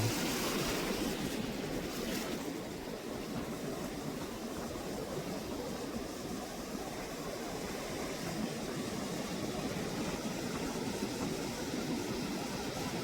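Sea waves wash steadily along Digha beach in India where fishermen net fish in the surf, a continuous broadband roar with a faint engine-like hum beneath, no talking.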